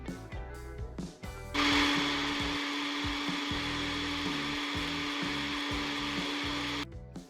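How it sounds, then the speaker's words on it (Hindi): An electric kitchen grinder blending green chutney of green chillies, fresh coriander, mint and a pinch of cumin, a loud steady motor whir that starts abruptly, runs for about five seconds alone and then cuts off. "दही की चटनी बनाने के लिए थोड़ी सी हरी मिर्चें, सब्ज़ धनिया, पुदीना और 1 चुटकी ज़ीरा डालकर चटनी ग्राइंड कर लें।"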